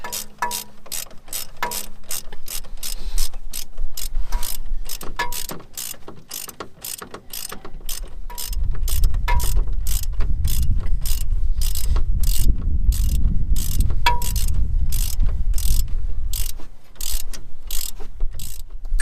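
A hand ratchet tightening a bolt on the front strut of a Mazda 6, clicking in long rapid runs of sharp, evenly spaced pawl ticks, close and loud, with a low rumbling hum building underneath partway through.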